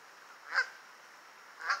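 Geese in a flock at Central Park in Schenectady give two faint, separate honks about a second apart over quiet outdoor background.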